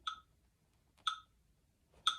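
Three crisp ticking beeps, one each second, sounding alone against near silence.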